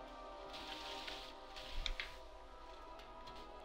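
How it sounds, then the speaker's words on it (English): Rain falling outdoors, a soft, distant, even patter and wash of drops lasting a few seconds, faint and continuous with no voices. "You can hear the rain."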